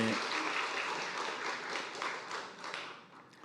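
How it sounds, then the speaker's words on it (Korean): A church congregation applauding together, a dense wash of clapping that holds steady and then tapers off over a few seconds. "하나님께 박수로 영광을 돌립시다"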